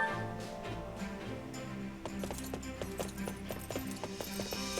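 Horse hooves clip-clop in the video game Fire Emblem Warriors: Three Hopes, a steady rhythmic trot of sharp hoof strikes over background music, fairly loud and continuous.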